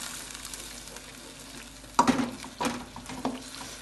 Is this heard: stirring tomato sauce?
yes